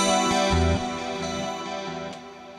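Distorted electric guitar tone run through the Nunchuck amp plugin, a heavy chugging riff with palm-muted low notes and sustained chords, loud and alone with no talking.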